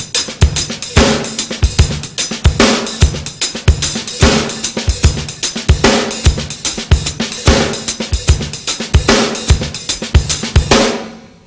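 Drum kit groove with steady quarter notes on the hi-hat over a loping bass drum and snare pattern, punchy and close, repeating evenly for about eleven seconds before stopping.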